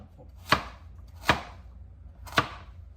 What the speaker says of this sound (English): Since we're cutting these carrots by a knife